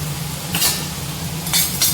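Urad dal dry-roasting in a hot kadai for curry leaf powder: a low constant hum, with two bursts of rattling, scraping grains as they are stirred, close and fairly loud.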